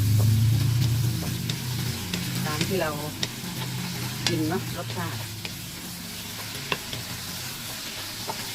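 Loud, close sizzling and stirring as chicken offal is stir-fried in a hot pan, steady throughout with scraping clatters, while someone speaks over it.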